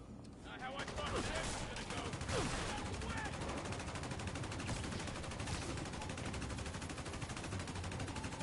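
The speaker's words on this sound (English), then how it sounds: "It sounds like someone's shooting a gun, but no bullets are coming out" A gun fires with no bullets coming out in a glitch in a Spider-Man video game, producing a dense, continuous burst of rapid shots that holds steady and loud for about seven seconds.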